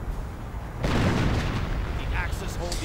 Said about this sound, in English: More artillery right down on the airborne, killing quite a few